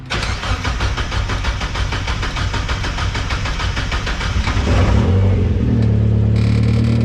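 A turbocharged 2000 Mazda Miata 1.8 engine cranks with rapid rhythmic turning, catches and fires, then revs up and settles into a loud, steady run.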